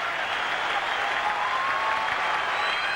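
A packed crowd of about 35,460 standing at Fenway Park applauds in a steady, dense roar during a tense extra-inning playoff game between the Athletics and Red Sox, with no break or pause.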